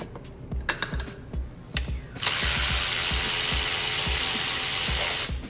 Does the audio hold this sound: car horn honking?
no